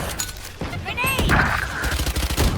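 Grenade blasts and gunfire sound in the video game Valorant as dense, chaotic bursts of booming impacts and crackling, with a voice speaking over the action.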